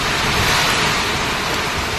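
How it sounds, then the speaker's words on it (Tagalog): Heavy typhoon rain pours down in Cauayan City, Isabela, a steady, loud, dense roar of rainfall with no break. "Ang lakas ng ulan."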